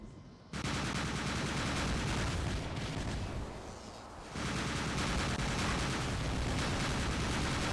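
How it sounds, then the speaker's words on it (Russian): Combat robots in the War Robots video game fire their guns in a dense, continuous roar of rapid gunfire, loud and close, easing briefly midway before the heavy barrage resumes. "она начинает стрелять в меня"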